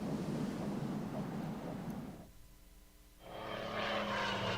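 Enemy fighter aircraft engaging in the Order of Battle: Battle of Britain strategy game, heard as a broad engine roar that drops away briefly and then swells back up, with no voices.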